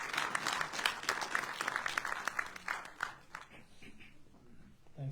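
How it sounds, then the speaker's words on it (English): Audience applause welcoming the national president of a Hindu organisation at a Gita festival event in the Australian Federal Parliament in Canberra, dense clapping that thins and fades toward the end. "the National President of AHA, Seva Singh, with a huge round of applause."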